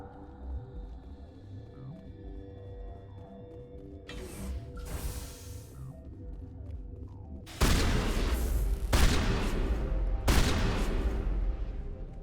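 Shotgun blasts in a sci-fi shooter video game: after a quiet, creaking stretch, three loud, sharp, booming reports go off close by, each a second or so apart and with a ringing tail.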